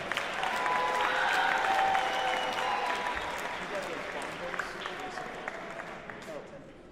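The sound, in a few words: audience applause at jazz festival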